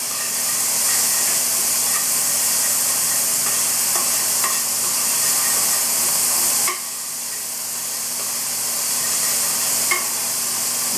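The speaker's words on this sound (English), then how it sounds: "I'm going to add some onions, and then I will add the garlic." Onions and garlic frying in olive oil in a pan, a loud close hiss of sizzling with occasional spoon clicks, dipping briefly then resuming, and no voices.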